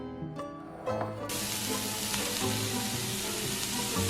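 Diced carrot and chopped celery sizzling in a pan, a continuous close frying hiss with a sudden surge as the vegetables land, layered under steady background music.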